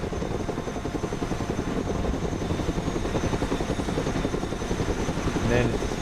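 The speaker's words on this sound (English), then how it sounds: "Chinook, at your command." A Chinook helicopter in the tactical strategy game Broken Arrow gives a steady rhythmic rotor chop, a dense pulsing drone at moderate level throughout, with a brief game voice line near the end.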